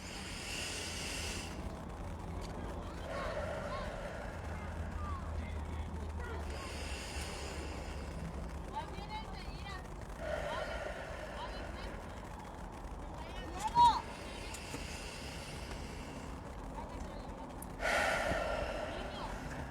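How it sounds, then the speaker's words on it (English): Slow, deep breaths drawn in and released, repeated several times as soft, airy swells at an even pace, with close, fairly quiet breath noise. "we're just going to take 3 deep breaths in"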